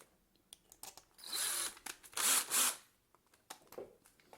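Power drill driving screws into armor parts, several short quiet whirring bursts with a few longer pulls in the middle, close and soft in an otherwise quiet room.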